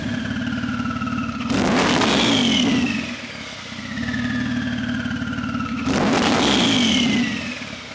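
A 1500 bhp Porsche 992 Turbo S engine runs steadily at idle, rising twice into loud, throaty revs with a whine sweeping down. Each rev settles back to a steady rumble, close and without speech.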